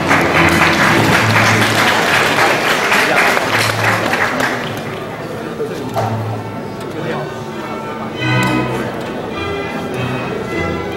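An audience applauds at a men's under-80 kg bodybuilding award ceremony at a 2016 collegiate competition. Loud, sustained clapping fills the first half, then fades while an announcer speaks over a PA with musical tones.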